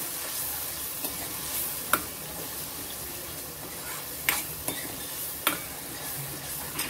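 Ground paste being sautéed in a pan for dhaba-style garlic spinach paneer gravy, a soft steady sizzle broken by several sharp clinks of a spatula against the pan.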